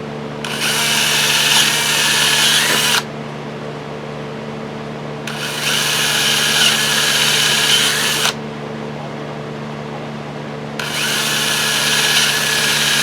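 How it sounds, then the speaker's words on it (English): A power drill bores holes in a pipe for a hydroponic rail system, three loud whirring bursts of a few seconds each separated by short pauses, close up over a steady low hum. "and drill some holes in it."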